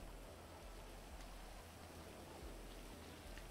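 Rain falling in the video game GTA 5, a faint, even wash of hissing rainfall with a low steady rumble beneath, continuous and without voices.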